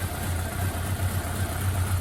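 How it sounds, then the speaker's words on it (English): A Suzuki GS750 motorcycle engine idles steadily with a low, even rumble, heard alone at close range. "So here we have the bike idling"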